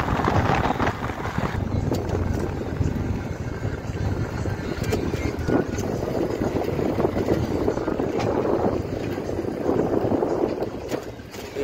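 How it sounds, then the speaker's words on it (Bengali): Strong wind blowing outdoors along a wooded riverside road near a dam, roaring and buffeting the microphone steadily and loudly throughout, with brief faint knocks. "হাওয়া প্রচুর আছে, হাওয়াটা লাগছে গায়ে"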